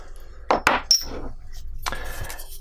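A steel hammer strikes a punch set on a copper rivet, giving three sharp metallic taps in quick succession, close and fairly loud, followed by another softer knock over a low workshop background.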